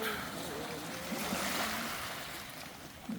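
Sea waves wash steadily along the coast with fishing boats out offshore, a broad, even surf hiss mixed with wind rush at moderate level and no clear distinct events.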